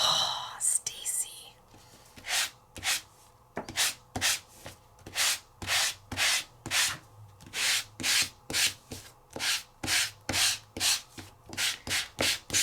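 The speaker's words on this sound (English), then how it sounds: "So I'm going to sand around those butterflies" Rhythmic sanding strokes on paper around die-cut butterflies in a papercraft project, a steady series of close, brisk rasping passes repeating roughly twice a second, with faint voice in the background at the start.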